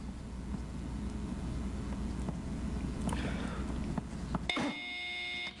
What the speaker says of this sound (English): that buzzer means one more toss-up round to go